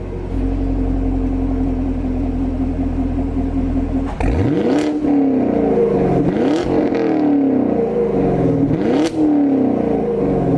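A Chevrolet Camaro SS V8 idling with its exhaust valves open, then blipped through three or four sharp, loud revs that climb and fall back to a deep, rumbling idle, close up.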